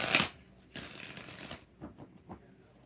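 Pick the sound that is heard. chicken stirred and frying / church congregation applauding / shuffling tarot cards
shuffling tarot cards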